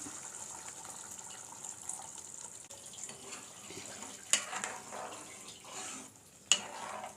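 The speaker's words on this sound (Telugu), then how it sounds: "ఇందులోకి మనకు పులుసు ఎంతైతే కావాలో అంత వాటర్ని వేసుకుందాం" Water is poured into a pot of Roop Chanduva fish pulusu (tamarind fish curry) as a steady, fairly loud running gush, broken by two short sharp clanks near the end, with no voices.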